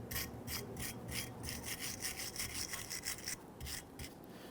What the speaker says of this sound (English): use a flat file to go ahead and clean that up